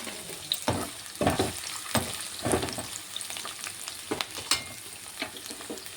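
Capsicum fries in a pan with onions, a continuous sizzle punctuated by repeated scraping strokes of a spatula every second or so, close and prominent with no speech.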